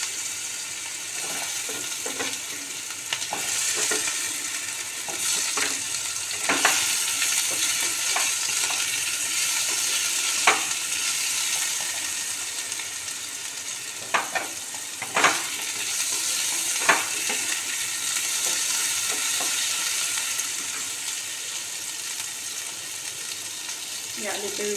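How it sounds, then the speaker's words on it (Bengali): Potatoes fry in oil over a medium gas flame, giving a steady close sizzle with occasional stirring clicks and scrapes throughout. "এই পটল ভাজার তেলে গ্যাসের আঁচ মিডিয়ামে রেখে এই তেলেই আমি আলুগুলো ভেজে নেব"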